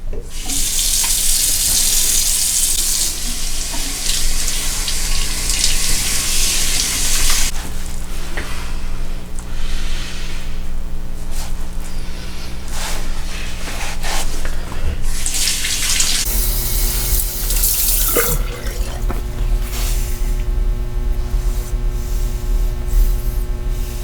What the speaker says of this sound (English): I'm just going to take the face cloth, warm it up, put it under the water, and warm the beard.